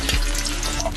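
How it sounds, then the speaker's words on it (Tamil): Whole spices, cinnamon, cloves, cardamom, fennel and mace, frying in hot oil for a mutton ghee roast, a steady close sizzle with a brief low thump at the start. "பட்டை கிராம்பு, ஏலக்காய், சார் சோம்பு, ஜாதி பத்திரி எல்லாம் எண்ணெயிலே போட்டுக்கணும்"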